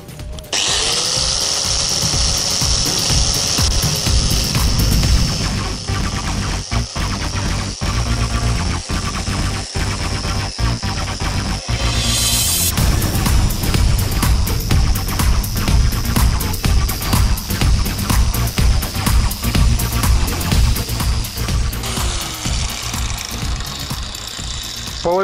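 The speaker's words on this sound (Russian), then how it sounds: "Включаю болгарку в розетку." An angle grinder fitted with a steel wire brush scrubs burnt grease from a frying pan, a loud continuous high whine with rattling, scraping bursts that rise and fall as the brush is pressed against the metal.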